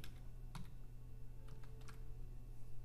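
Quick bursts of close key clicks as a formula is typed on a computer keyboard in MS Access, with a few irregular clusters of strokes over a quiet background hum.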